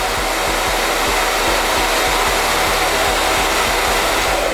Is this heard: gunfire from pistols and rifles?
no